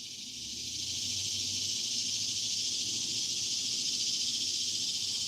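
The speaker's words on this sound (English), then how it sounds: "Do you hear him? Get the crickets going." Dense, steady insect chirring, like crickets, forms a continuous high-pitched hiss with no voices.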